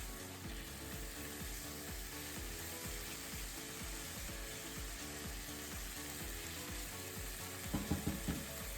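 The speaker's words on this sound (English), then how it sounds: "Break apart the meat and cook it both sides." Ground beef being broken apart and fried in a pan for taco rice; steady close sizzling crackle throughout, with a few scraping utensil knocks near the end.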